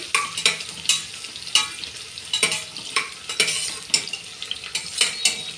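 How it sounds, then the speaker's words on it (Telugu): Spicy mutton frying in a pan until it turns red, a steady close sizzle broken by repeated sharp scrapes of a spoon stirring every half second or so, with no voices. "ఇలాంతా వేపుకోవాలి, రెడ్గా వచ్చేంత వరకు వేపుకొని."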